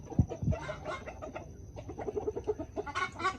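Chickens brought outside into the sun cluck in a close, busy cluster, with a couple of sharp louder clucks at the start followed by steady overlapping clucking and brief bird calls.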